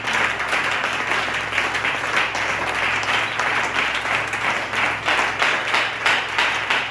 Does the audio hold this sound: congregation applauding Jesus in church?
yes